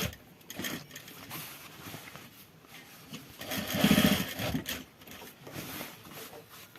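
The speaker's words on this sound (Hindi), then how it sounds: "देखिए इस प्रकार से हम ये सिलाई लगा देंगे।" Sewing machine stitching a back pocket onto a pair of trousers, running in short bursts with a louder, steady stretch of stitching midway, fairly close and with no talking.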